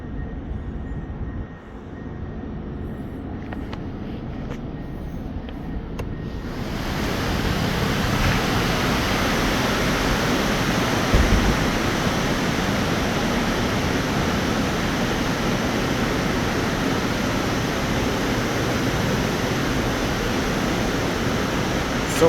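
Water pumped up from an influent pump station pours through the main channel of a wastewater headworks building, a loud, continuous rushing roar that swells after a quieter start, with no talk.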